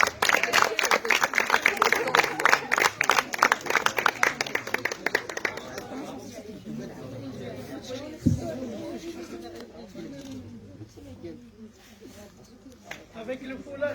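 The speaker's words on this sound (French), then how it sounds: "Merci d'applaudir Arwen Bin." Audience clapping at the closing ceremony of a Morocco–Belgium intercultural exchange: dense, loud applause for about six seconds, then fading into scattered claps and murmuring crowd chatter with voices.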